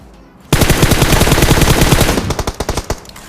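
Rapid automatic gunfire from the video game PUBG Mobile bursts in loud and dense after a brief quiet moment, then breaks into separate single shots toward the end.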